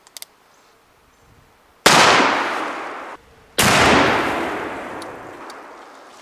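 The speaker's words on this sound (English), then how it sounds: "let's just see if I can take out a 1-liter water bottle with the Uberti Revolving Carbine and the Taylor's cartridge conversion cylinder" Two loud black powder cartridge shots from an Uberti Remington revolving carbine fitted with a Taylor's cartridge conversion cylinder, each a sharp blast with a long decaying echo, the second following about two seconds after the first.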